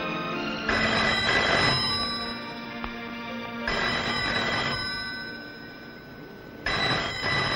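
A telephone bell rings in repeated long bursts separated by short pauses, loud and close in a quiet room, with no one speaking.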